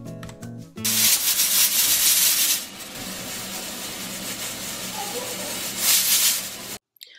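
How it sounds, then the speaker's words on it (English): Steam rushes from a pressure cooker of beef soup as it is opened, a loud, close, continuous hiss that holds for several seconds, then eases to a softer hiss before surging briefly again and cutting off. "Now our beef is done cooking, and I'm going to open the pressure cooker"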